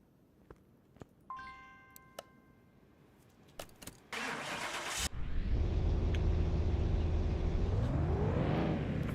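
In Car Mechanic Simulator 2021, a car fitted with performance parts is started on a dyno after a few faint clicks and taps, then its engine runs loudly and revs up to a rising, sustained roar.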